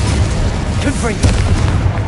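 Loud booming spell blasts from the Confringo explosion curse in a Harry Potter video game, heavy low rumble with bursts around the middle and later, while a voice shouts spell names over the din.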